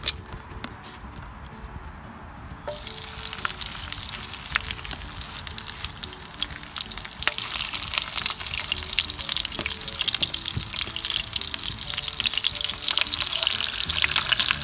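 Dried fish (tuyo) hits hot oil outdoors: after a few quiet seconds a loud, crackling sizzle bursts in and keeps spattering steadily, growing a little stronger toward the end.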